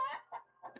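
A hen gives a few short, soft clucks in quick succession as a sound effect in a Spanish children's story about a hen and a golden egg.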